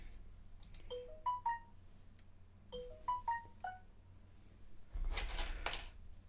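A mobile phone plays a bright rising-and-falling melodic notification tone twice in succession, clear and close, followed by a brief burst of rustling noise.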